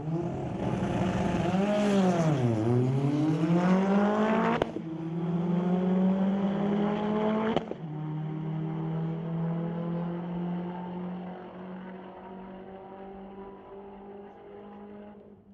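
A McLaren and a Volkswagen launch in a street-legal drag race at Mission Raceway Park. Loud engines rev, dip and climb through sharp gear changes, then fade into a sustained receding drone.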